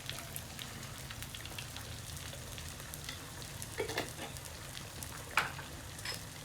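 An egg fries in a pan for an English breakfast, seasoned with salt and pepper, giving a soft, steady crackling sizzle with a few sharper pops, close by and fairly quiet with no talk.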